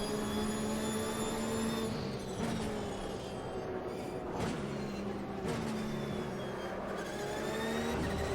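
Race car engine in the sim game Automobilista, a steady sustained tonal drone with pitch shifts as the car shifts gears and slows for corners, continuous and fairly loud without speech.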